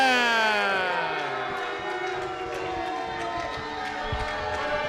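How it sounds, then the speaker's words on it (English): Wrestling arena crowd reacting to a new PowerBomb Wrestling Heavyweight Champion, a steady wash of mixed cheers and noise that holds at a fairly even level throughout, with some sustained tones riding over the crowd. "Well, a mixed reaction from the crowd."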